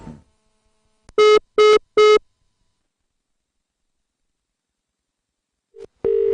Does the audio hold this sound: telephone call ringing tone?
yes